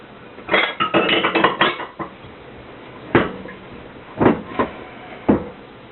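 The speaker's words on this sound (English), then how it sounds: "Now before we finish our last folding, put the walnuts in." Walnuts being folded into a mixture in a bowl: a busy cluster of clinks and scrapes of a spoon against the bowl, then a pause and a few separate knocks, close and fairly loud.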